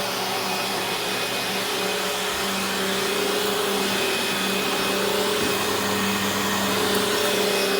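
A vacuum cleaner runs steadily on carpet beneath a bed, a loud continuous motor drone with a strong hum and broad airy hiss that holds unbroken throughout, no voices.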